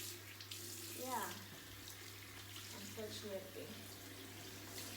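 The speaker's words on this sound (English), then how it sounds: "Ooh, okay, this water is hot. Okay, so now my hands are clean." Hot water runs steadily from a tap as hands are washed beneath it, a continuous close splashing rush lasting throughout, with a brief spoken word over it.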